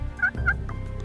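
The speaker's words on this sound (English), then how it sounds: "I'll answer him about every third gobble he makes." A mature wild turkey gobbler gobbles during a hunt outdoors, with a couple of sharp, rattling gobble bursts close together, fairly loud and clear, and no talking over them.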